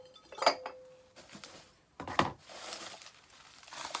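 Mason Cash ceramic mugs being stacked, with a few distinct clinks and knocks of ceramic on ceramic, spaced apart, close up and fairly quiet.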